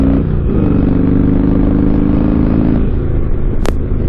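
A Harley-Davidson motorcycle engine runs steadily close by with a deep, loud rumble that holds throughout, with a brief sharp click near the end.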